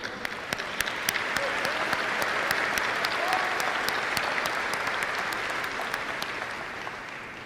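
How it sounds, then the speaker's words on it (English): Sustained applause from a sizable audience at a high school graduation, dense clapping with sharper individual claps standing out, steady throughout and fading slightly at the end. "Big round of applause for everyone."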